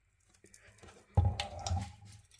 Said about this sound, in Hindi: 1-2 बूंदे तेल की टपकाऊंगी